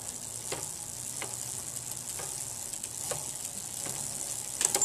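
A bicycle crank turned by hand in second gear gives a steady, faint freewheel ticking with soft periodic clicks roughly every second over a low hiss, ending in a few sharper clicks.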